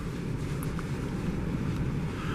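Strong, cold wind buffets the microphone at Craters of the Moon, a steady low rumble that fills the whole stretch without letting up.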